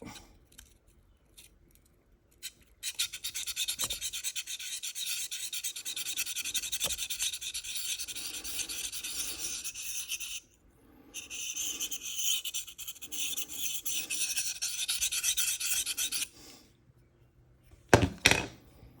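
A knife blade is drawn over a Sharpal field sharpener in two long spells of steady, close, gritty scraping, with a few sharp clicks and taps between strokes.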